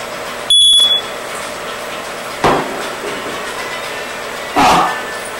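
A smoke alarm in a house kitchen during cooking of macaroni béchamel gives one sharp, high electronic beep near the start, followed later by two brief broadband bursts with no talking.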